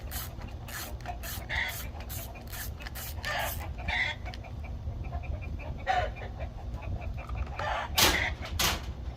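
Chickens cluck and squawk excitedly in a barnyard, a near, irregular run of sharp bursts over a low steady background hum.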